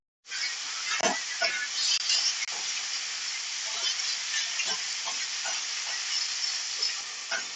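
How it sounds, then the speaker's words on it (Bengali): Ginger paste, chopped tomato and Japani puti fish fry in a pan, making a soft, steady hiss broken by regular scraping spatula strokes. "এবার আমি এইভাবে 2 মিনিট নাড়াচাড়া করে নেব।"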